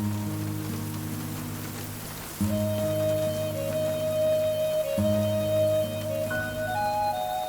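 Steady rain falls on a surface, a soft hiss sitting beneath sustained musical tones that swell partway through.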